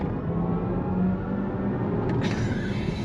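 A low, droning synthetic hum from a BMW iX1 electric car's artificial driving sound, steady and rumbling, with a brief higher tone near the end.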